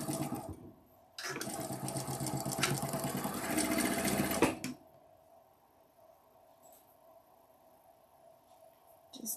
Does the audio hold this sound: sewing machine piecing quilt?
yes